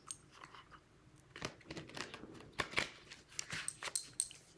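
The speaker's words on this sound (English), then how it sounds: "got the cards. Let's give them a ruffle shuffle" A deck of cards being riffle shuffled, faint close-up flutters and soft snaps of cards, a few short bursts against a quiet room.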